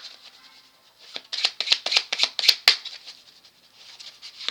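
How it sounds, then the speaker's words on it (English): A deck of playing cards being shuffled up close, a burst of crisp riffling flicks building to a dense flurry in the middle, then settling into lighter, quieter card rustles, with no voices. "Let's shuffle on this card."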